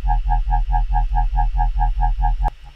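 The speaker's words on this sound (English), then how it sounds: "we've got a high-pitched sine wave and a low-pitched one, and we've distorted them together." Two sine waves, one high and one low, buzz together with harsh distortion, pulsing in a regular rhythm about four times a second before stopping.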